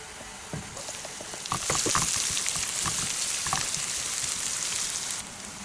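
Garlic and onion sautéing in hot oil in a pan for a Kapampangan salted tilapia dish, a steady close sizzle that jumps louder midway and holds, with soft scraping and crackles and no talk.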